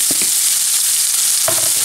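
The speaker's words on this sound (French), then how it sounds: "dans la même huile, je vais mettre un oignon coupé très finement" Finely chopped onion frying in oil in a pan, a loud, continuous hiss with a few brief clinks of stirring near the start and again toward the end.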